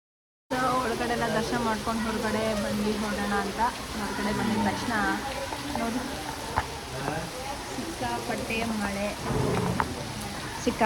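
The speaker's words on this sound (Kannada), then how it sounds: "ಸಿಕ್ಕಾಪಟ್ಟೆ ಮಳೆ ಬರ್ತಾ ಇದೆ" Heavy rain pours down in a constant dense hiss at Magadi Ranganathaswamy Temple, with people waiting and talking underneath and a brief silence at the very start.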